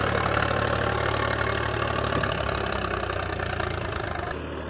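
A Sonalika 745 tractor pulling a 13-tine cultivator in third gear, its diesel engine running loud and steady with a knocking rumble throughout, no voices.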